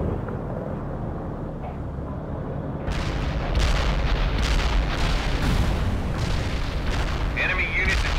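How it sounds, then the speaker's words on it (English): Cluster bomb explosions in the real-time strategy game World in Conflict: a loud, continuous rolling barrage of overlapping blasts, preceded by a low rumble with faint radio chatter. "Wilco, Iceman heading out with cluster bombs."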